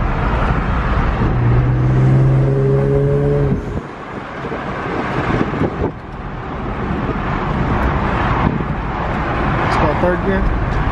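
An Infiniti Q50/Q60 fitted with HKS blow-off valves, driven from the cabin at about 50, with a loud engine roar and tonal whine that cut off sharply into a hiss near the four-second mark, then rebuild, while a person talks.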